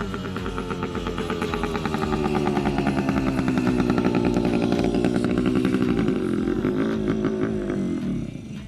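Yamaha YSR small motorcycle being ridden, its buzzing engine steady and loud with slight pitch shifts as gears change, fading slightly at the end.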